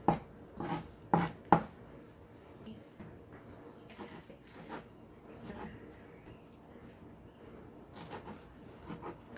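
Washed cilantro chopped with a knife on a board, a few close, distinct thuds at the start, then softer scattered cuts and rustling at low volume.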